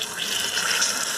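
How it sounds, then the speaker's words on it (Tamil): Water poured into a pan of freshly caramelised, browned sugar makes a steady, close hissing rush that holds evenly for about a second, with no voices. "இப்போ இதில் கொஞ்சமாக தண்ணி ஊற்றிடலாம்."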